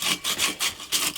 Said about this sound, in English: Sandpaper, again,